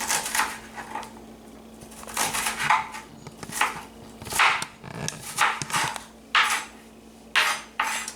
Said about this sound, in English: Just dicing the onion here. This is just a medium yellow onion, Spanish onion.